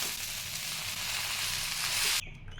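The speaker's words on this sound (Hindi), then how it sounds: "अब डालेंगे नूडल। अब अच्छी तरह से मिलाएंगे।" Noodles tossed with vinegar, tomato ketchup and other sauces in a hot pan for vegetable Hakka noodles, a close, steady sizzle and frying hiss with stirring that cuts off abruptly near the end.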